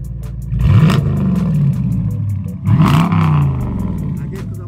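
Dodge Challenger R/T with about 100,000 miles parked and revved twice, each loud throttle blip roaring up and falling back to a rumbling idle, close by with no talk.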